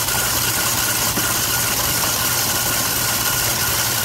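An electric mixer creams butter in a metal bowl, giving a constant, loud, even motor whir with a grinding edge that holds steady throughout with no talk.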